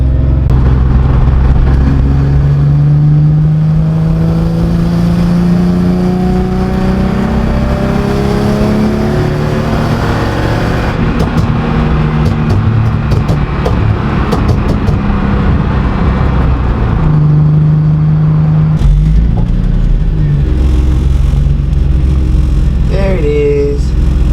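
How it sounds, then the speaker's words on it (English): A loud Nissan 350Z show car engine roars from inside the cabin, revving up through the gears with rising pitch, a brief shift drop, and steady heavy rumble throughout. "this car is super loud on the inside"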